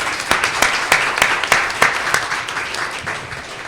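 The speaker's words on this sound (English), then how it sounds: "If we could just please give everyone a round of applause." An audience applauds at the close of a policy panel event, a fairly close, steady round of clapping with distinct sharp claps standing out.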